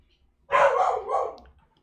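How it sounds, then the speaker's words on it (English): A very vocal dog barks in the background of a room during a gaming session, two quick, loud, close barks running together over about a second and then stopping. "Sorry about the dog in the background."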